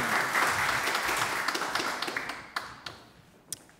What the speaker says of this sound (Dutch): Ja, hartelijk applaus.